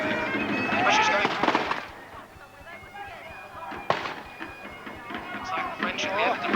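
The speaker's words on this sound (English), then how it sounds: "Cannon firing." Cannon and musket fire at a Napoleonic battle re-enactment at Tilbury Fort, heard as a few sharp bangs and crackling volleys, with one strong report near the middle, mixed with crowd noise and voices.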